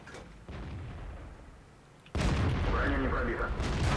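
In the World of Tanks video game, a tank takes a hit from enemy tank gunfire, a dull muffled boom followed by a louder, rumbling impact blast with a voice talking over it.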